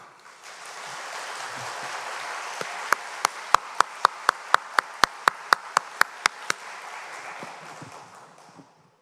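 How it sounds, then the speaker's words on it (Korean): A church congregation applauds warmly, a dense wash of clapping that swells and fades, while one sharp, close clapper beats a quick, regular rhythm through the middle. "아주 뜨겁게 박수하시는군요."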